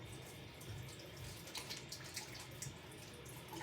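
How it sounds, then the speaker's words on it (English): Hands are washed under a running kitchen tap, water splashing and pouring steadily into the sink close by, with shifting splatter as the hands move through the stream. "Alright guys, I'm quickly washing my hands."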